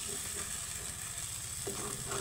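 An egg frying in a pan and being pushed to the side, a steady close sizzle and hiss with faint scraping, no voices.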